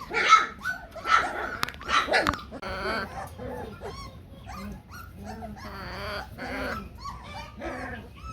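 A young Maremma puppy on a porch gives several high, yappy barks up close, then trails into softer whimpers and whines, with a few scattered yips afterward.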